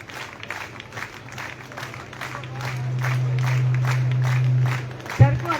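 A crowd at a college convocation ceremony at Chaudhary Ishwar Singh Kanya Mahavidyalaya in Dhand Dadwana claps in a steady, rhythmic beat that swells and holds, with a sustained hum and a voice speaking over it.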